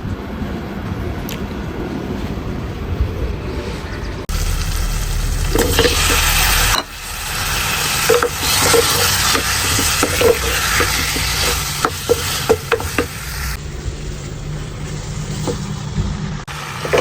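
Masala for a potato and eggplant curry fries and sizzles in a pan with stirring scrapes, a steady loud hiss that swells partway through, with a wind-like rumble behind and no talk.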